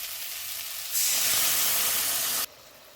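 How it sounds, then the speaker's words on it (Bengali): Water poured onto sizzling spices in a pan for a sole fish curry, a sudden loud hissing burst of steam lasting about a second and a half before cutting off over a quieter background hiss. "কষানো হয়ে গেছে, এবারে জল দিয়ে দেবো।"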